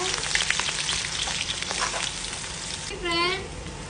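Oil sizzles and crackles steadily as sliced onions fry in a pan, close up, with a brief spoon scrape near the end.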